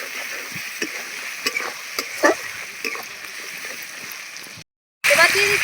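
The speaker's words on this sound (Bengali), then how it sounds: "অল্প কিছুটা পরিমাণ মটরশুঁটি ছাড়িয়ে রেখেছিলাম সেই মটরশুঁটিগুলো দিয়ে দিলাম" Shelled peas dropped into tomato and garlic frying in a pan, a steady close sizzle with a few stirring scrapes and soft spatters, broken by a brief cut before the frying resumes louder.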